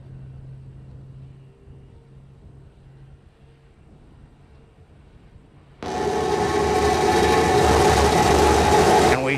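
SpaceX Starship SN15 fires its Raptor engine: near silence gives way to a sudden, loud, broadband roar that holds steady and powerful to the end.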